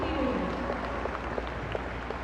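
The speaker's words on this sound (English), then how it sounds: "let's give them a round of applause" Audience applause for students at an eighth-grade graduation ceremony, a steady, fairly soft wash of clapping that holds for a couple of seconds, with a voice briefly heard at the start.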